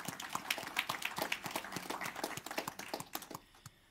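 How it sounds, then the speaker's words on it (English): A church congregation claps together after an offering announcement, a quiet, moderately distant patter of individual claps that thins out and stops near the end. "I think it's appropriate to clap."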